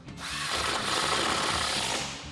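Power tool driving a single bolt into the fender of a Jeep Wrangler JL, a short burst of buzzing motor whir that rises and holds for about two seconds, fairly close and alone.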